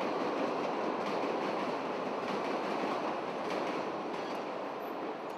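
Elevated train on the Chicago Loop rolling past on its tracks, a loud, steady, continuous rumble with rattling wheel noise that holds for several seconds, no voices.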